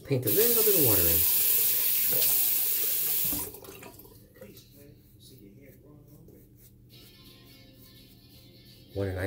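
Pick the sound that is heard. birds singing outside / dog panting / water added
water added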